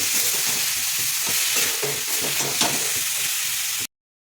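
Potatoes sautéing with Kashmiri chili powder and spices in a pan for a tangra fish curry, giving a loud, dense sizzle with stirring scrapes until it cuts off abruptly.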